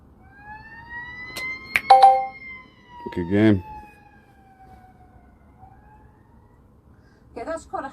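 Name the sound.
siren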